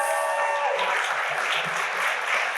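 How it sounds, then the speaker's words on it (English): An audience at a Posse Chicago graduation ceremony gives a round of applause for the graduates, a dense and even burst of clapping from a hall full of people. "let's have one more round of applause for our Posse Chicago graduates"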